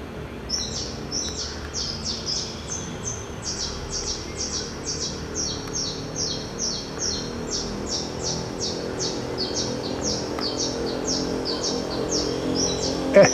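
Birds chirp in a long run of quick, repeated high calls, fairly clear over a low background hum, continuing steadily with no talk.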